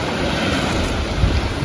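Sea waves wash steadily around a boat travelling along a coast, a continuous surging hiss mixed with heavy wind buffeting the microphone, with no voices.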